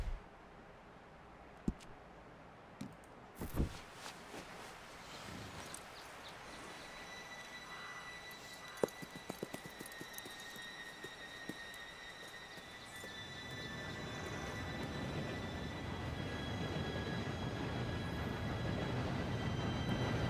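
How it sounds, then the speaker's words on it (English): Red Dead Redemption 2 train robbery: a steam train draws near, its rumbling low roar swelling steadily over the final seconds, with a few sharp clanks and rattles scattered earlier over a quiet backdrop. "Train should be here"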